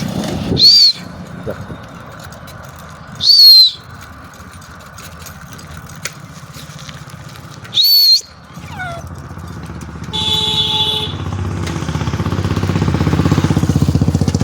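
Three short, loud whistled notes repeated a few seconds apart, calling birds on a cold day, with a steady low engine-like hum underneath and a brief chirping flutter afterward.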